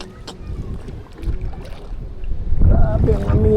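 Strong northeast monsoon wind buffets the microphone with low rumbling gusts over the sound of a small outrigger boat on open water, growing louder toward the end.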